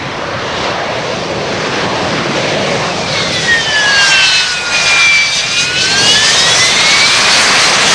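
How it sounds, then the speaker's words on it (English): A Harrier jump jet descends at an aerodrome with a loud, sustained engine roar, turbine whines sliding down and up in pitch as it hovers and passes close by. "The Harrier descends in its own inimitable way."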